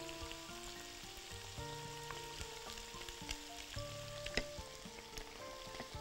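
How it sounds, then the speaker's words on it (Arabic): Chicken pieces fry in a pan, giving a steady soft sizzle and crackle with small pops, moderately quiet and without any voices. "كده الفراخ اهي ابتدت عندنا، ابتدت تتحمر"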